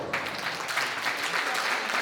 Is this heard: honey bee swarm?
no